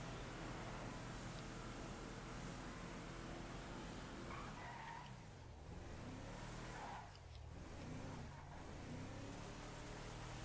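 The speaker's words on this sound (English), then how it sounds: "I like how with open top cars you can actually hear the wind blowing." Wind rushes steadily past an open-top car being driven in Grand Theft Auto 5, a constant loud broadband hiss mixed with engine drone, with a few brief swells and dips as the car moves.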